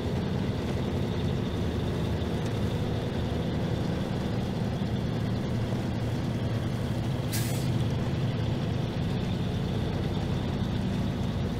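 Heavy truck engine in SnowRunner grinds steadily uphill on a mountain trail in high gear, a constant loud drone with one brief hiss partway through.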